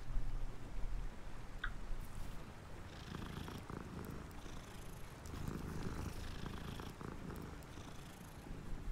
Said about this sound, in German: Katze.